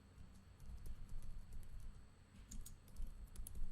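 Password being typed on a computer keyboard, a steady run of soft, close key taps with uneven rhythm over low background hum.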